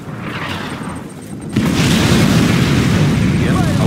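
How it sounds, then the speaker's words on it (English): Nuclear missile strike in Command & Conquer 3: Tiberium Wars, a quiet stretch of game ambience suddenly giving way to a massive sustained rumbling blast that roars on loudly to the end. "Nuclear missile launched."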